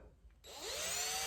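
A larger drill bit countersinks a screw hole in the cowl vent door of an FJ40 Land Cruiser, starting abruptly after a brief quiet moment as a steady, close, loud whirring grind that carries on to the end.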